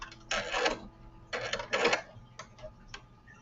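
Home sewing machine running in two short bursts while top stitching fabric, a steady mechanical whir followed by a few faint clicks, close and fairly quiet.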